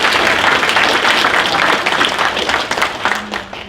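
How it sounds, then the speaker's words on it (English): Loud, steady audience applause at an NRA convention Q&A panel for a young man who just graduated high school, a thick continuous clatter of many hands that eases slightly near the end. "Clap it up for Ethan."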